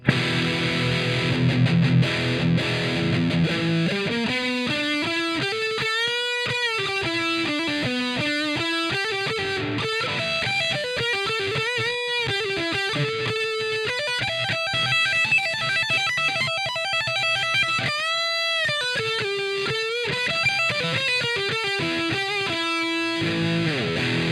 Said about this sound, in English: The first thing is the custom Badass 78 distortion.